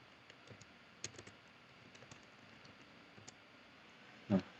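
A Linux command being typed on a computer keyboard: sparse, faint, irregular key clicks at close range, with one heavier thump near the end.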